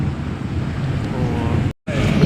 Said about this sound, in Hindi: इस वक्त यहाँ पर आंधी आई हुई है